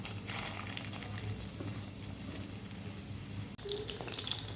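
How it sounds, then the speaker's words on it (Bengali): Chicken fritters frying in hot oil over medium heat for restaurant-style chilli chicken, a steady soft sizzle and bubbling that continues throughout, with a brief break near the end before the sizzle resumes. "এবার এগুলোকে আস্তে আস্তে মিডিয়াম আঁচে একটু লাল করে ভেজে নেব"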